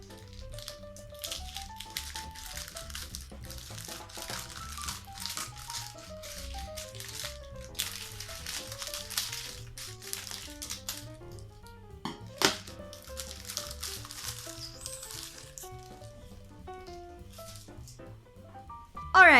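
Plastic packaging from a dollhouse collection magazine being unwrapped, with soft crinkling and rattling bursts that come and go under quiet background music.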